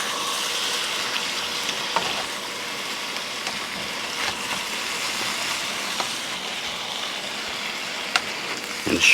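Meat fries in a pan for spaghetti with a steady, close sizzle and hiss, broken by a few soft scrapes and taps, with no talking.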